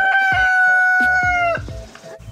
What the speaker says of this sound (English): hearing our rooster crowing.